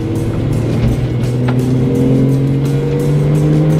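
A Porsche 996 accelerates hard in fourth gear from about 1500 RPM, its engine note climbing steadily in pitch as a loud, continuous, close-up pull.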